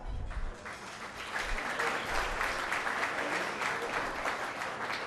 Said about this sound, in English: we also want to give a big round of applause for our individual patron sponsors